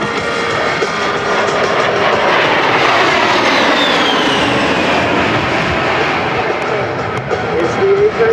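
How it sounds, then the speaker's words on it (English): An A-10 Warthog jet roars continuously and loudly overhead during a level high-G turn at the Singapore Air Show, a steady broad engine rush with no break. "It's the A10's quick turn rate and small turn radius, which enables it to work effectively over the battlefield"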